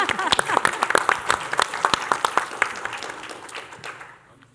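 Audience clapping at a school board meeting, a burst of dense, close handclaps that gradually thins and fades out, with voices mixed in.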